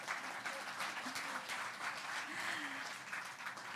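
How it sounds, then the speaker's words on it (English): An audience at a Bali investors forum claps steadily, a soft, even patter of many hands heard from some distance, with a few faint voices beneath it. "Can I have a round of applause?"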